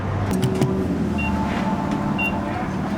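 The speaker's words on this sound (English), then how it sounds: "I'm driving it. I'm sliding it down a gravel road." Dodge Charger in rough condition driving along a gravel road, a steady close engine and road rumble with crunching tire noise throughout, no talking.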